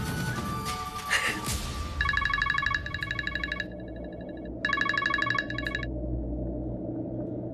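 An electronic phone ringtone trills in two bursts separated by a short pause, with a low hum beneath and no voices.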